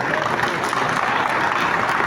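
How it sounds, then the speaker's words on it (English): An audience at the Lagos Real Estate Market Place Conference and Exhibitions claps in a steady, dense wash of applause that stays loud throughout. "Can you give them a round of applause?"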